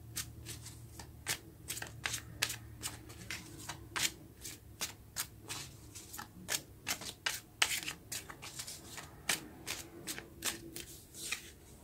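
Tarot cards being shuffled by hand, a steady run of crisp riffling slaps and soft paper flutters repeating over several seconds, close and fairly quiet with no talking.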